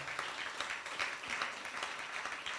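An audience at a Ramayanam discourse claps together in a dense, continuous round of applause, steady and fairly full throughout.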